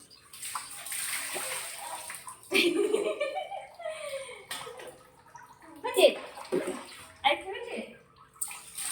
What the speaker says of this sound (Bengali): কত জল ঘাটছে, কখন থেকে জল ঘাটে রে